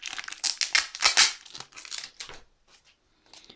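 Packing tape rips off a Pokémon card tripack in several quick, crackling tears close by, then trails into a few faint rustles and a softer final pull.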